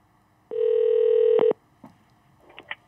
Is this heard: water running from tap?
no